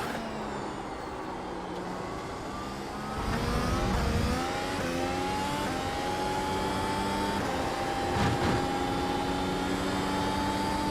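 Race car engine and tyre noise from the iRacing sim racing game at the Circuit of the Americas, a steady loud drone of engine with rising and falling pitch as it accelerates and shifts, alone without talk.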